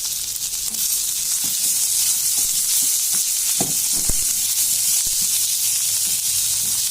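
Mint chutney tempering sizzles steadily in a hot pan, a continuous hiss with scattered small pops and crackles throughout, fairly close and with no talking.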